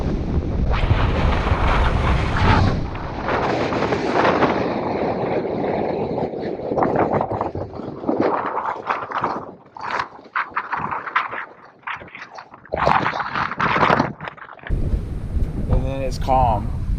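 Gale force winds buffet a sailboat at anchor off Lanai, Hawaii, as loud, continuous rushing gusts and microphone buffeting, with water sloshing and occasional voices breaking through near the end.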